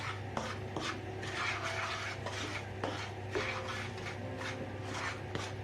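Cornmeal kuymak stirred continuously in a pan, a steady scraping and clinking of a utensil against metal with repeated sharp taps over a low background hum, fairly close and with no talking.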